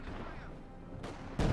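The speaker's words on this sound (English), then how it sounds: "Also getting hammered with the field gun." A field gun fires in the World War II strategy game Company of Heroes 2 as a burst of battle noise: a sharp crack partway through, then a heavy, loud blast at the end, over constant rumbling combat.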